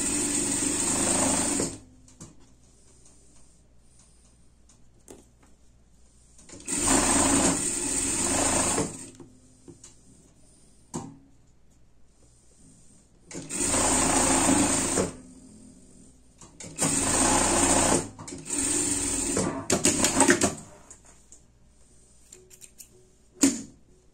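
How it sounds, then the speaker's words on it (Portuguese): A sewing machine runs a safety seam on a pet hoodie in four or five separate bursts of steady, fast mechanical whirring and needle chatter, separated by quiet pauses of several seconds. "a gente já vai passar uma costura de segurança aqui embaixo"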